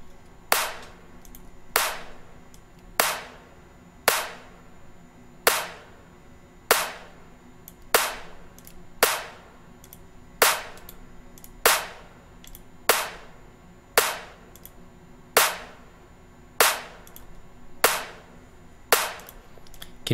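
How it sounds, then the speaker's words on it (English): Sharp percussive hits pass through heavy compression in the LMMS Dynamics processor, each attack sounding at normal level before its tail drops very quiet, repeating steadily about every second and a half. "only the first little bit of the sound is normal volume, and then the rest is very quiet"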